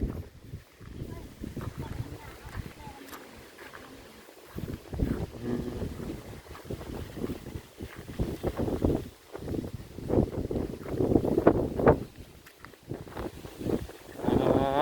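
Strong cold wind gusting outdoors on a family trip to gather red ant eggs, buffeting the microphone in uneven roaring surges while people talk intermittently over it.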